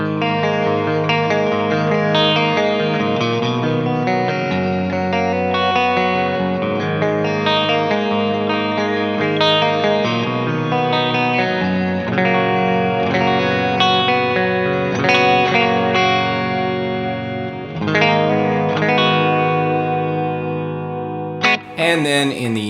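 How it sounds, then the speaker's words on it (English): An electric guitar in the middle pickup position, outer coils of both pickups together, strums and picks a clean, chiming chord pattern with a chorus-like shimmer and a hollow, airy tone, played continuously and close. "Now in the middle position, you're going to get the outer coils of each pickup together."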